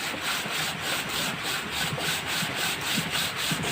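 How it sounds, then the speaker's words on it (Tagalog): Hand sanding of a motorcycle crankcase breather part, a close, steady back-and-forth rasp of abrasive against metal in an even repeating rhythm, with no talk. "Dagdagan natin ng konti ng pagliha."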